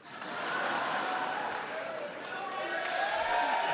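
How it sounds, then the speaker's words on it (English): Members of Congress cheer and applaud at a State of the Union address, a sustained roar of crowd applause and voices that builds quickly and holds steady throughout, with some shouting mixed in. "The Republicans cheering?"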